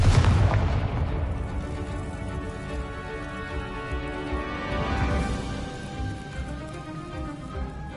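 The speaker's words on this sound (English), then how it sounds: "Confringo!" The Confringo fire spell explodes in Hogwarts Legacy, giving a loud, close boom right at the start that fades into a long rumbling, crackling tail with a second swell of debris noise midway and no speech.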